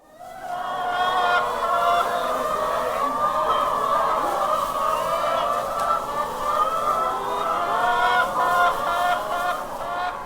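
A large flock of laying hens on a farm of about 300 birds clucks and chatters continuously, a dense, overlapping murmur of many birds close by.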